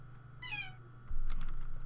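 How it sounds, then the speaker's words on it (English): A pet cat lets out a single loud, drawn-out meow indoors, followed by a few soft clicks of computer keyboard typing over a low electrical hum. "my cat is losing her mind"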